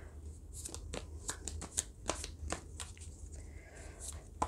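Tarot cards being shuffled by hand, a series of soft crisp riffling flicks and taps at close range, fairly quiet, with light background hum and no voice.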